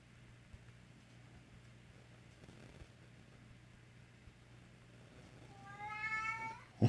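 After several seconds of quiet room hum, a nearby house cat lets out a short series of rising, chirping meows that swell in loudness at the end.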